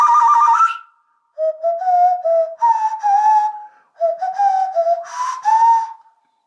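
A nose flute plays a short wavering melody in bright, breathy whistle tones, phrases sliding up and down in pitch with brief pauses between them, close and clear with no talking.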